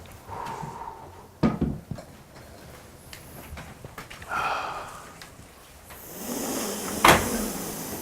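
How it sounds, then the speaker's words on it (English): Indoors at a satsang gathering, a door is opened with a few close clunks and a latch click, followed later by a soft sliding rush and a sharp knock. "Just go ahead and open the door behind you."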